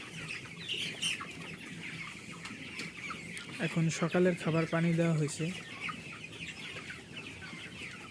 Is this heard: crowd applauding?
no